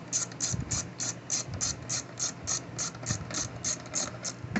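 Fast, even clicking of a ratchet wrench tightening 8mm bolts on a 20-inch MTD push mower with a Briggs 300E engine, about a dozen crisp close clicks in steady rhythm with no talking.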